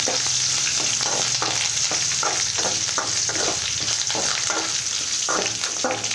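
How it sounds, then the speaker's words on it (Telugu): Green chilli pieces and curry leaves fry in a pan with a steady, loud sizzle and crackle, marked by periodic stirring scrapes throughout; no one speaks. "పచ్చిమిర్చి ముక్కలు చేసేసుకున్నాను కొద్దిగా కరివేపాకు ఇది బాగా వేగనిద్దాము"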